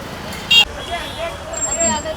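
Street traffic in the crowded Chickpet market area of Bangalore: a steady roadway rumble with a brief sharp horn-like burst, while voices talk over it close by.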